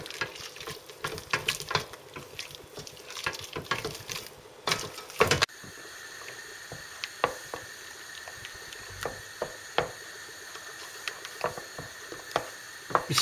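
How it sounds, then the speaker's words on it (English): Milk sauce whisked in a pan over a very low gas flame for Cypriot makaroni pasta (pastichio), a steady stream of soft whisking and scraping, close, with small clinks and light bubbling. "Keep whisking until it comes together."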